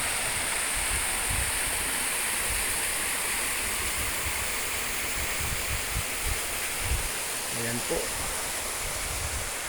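A waterfall in the middle of a mountain, a loud steady rushing roar filling the whole scene, with a person speaking briefly beneath it.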